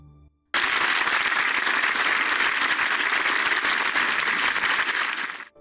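Loud, dense applause erupts outside a church as a white coffin is carried in a funeral procession, starting abruptly after a short quieter lead-in and rolling on steadily with sharp crackling claps before fading at the end.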